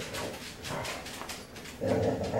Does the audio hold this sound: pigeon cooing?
no